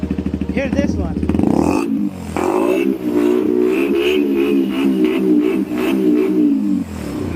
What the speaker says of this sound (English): This is really loud bike.